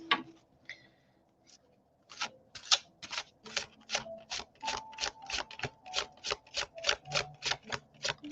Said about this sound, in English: It's a little bit larger deck, so it's harder for me to shuffle it.